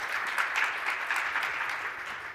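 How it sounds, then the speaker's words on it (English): Sustained applause from a conference audience at an education and health tech panel, a dense steady wash of many hands clapping at moderate level with no talking. "Let's give Maria Flynn a round of applause for being here with us."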